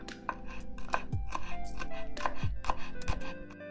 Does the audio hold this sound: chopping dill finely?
yes